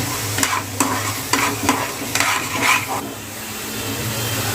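Curry leaves and other tempering frying in hot oil, a steady close sizzle broken by a series of scraping stirs and spatula knocks that fade out toward the end.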